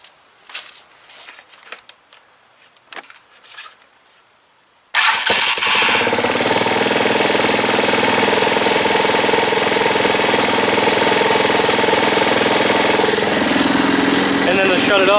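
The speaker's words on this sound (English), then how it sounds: "that's how you can start a Tbr7 or Hawk250 with no key" A Hawk250 / TBR7 dirt bike engine is started without a key, after a few quiet clicks and knocks, then roars to life and runs loud and steady at idle for the remainder, close by.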